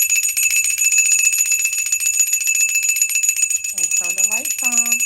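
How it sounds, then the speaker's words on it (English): A bell chimed during a protection spell ritual rings as a steady sustained high tone throughout, with a voice entering faintly near the end. "I can chime my bell"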